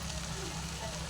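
Eggs, salt and spices fry in a pan for chow mein, making a low, constant sizzling hiss, faint and unbroken for about a second.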